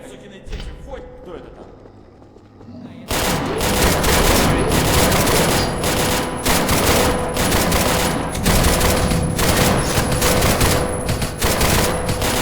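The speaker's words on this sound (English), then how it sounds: "The AK definitely feels like it has a bit less punch to the audio." AK rifle fire in the zombie shooter Paranoia 2: Savior, bursts of rapid gunshots starting abruptly after a quieter opening and continuing loud and dense, with a voice talking underneath.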